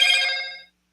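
Short electronic phone chime from a mobile phone, bright and tonal, ringing loudly for a moment and then cutting off abruptly into silence, with no talking.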